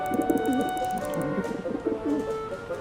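A pigeon coos repeatedly in the Syberia: The World Before video game, soft low throaty rolls over a steady ambient game backdrop.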